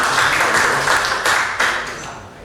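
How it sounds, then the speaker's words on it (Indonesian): Loud, close applause from a seated audience of teachers at a school presentation in Denpasar, a thick patter of many hands that holds steady and then starts to taper off toward the end. "Boleh tepuk tangan sekali lagi Bapak Ibu ya."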